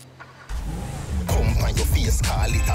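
In GTA 5, a stolen car's engine starts after a short quiet moment, then settles into a steady, loud idle and low rumble with some game sounds layered on top.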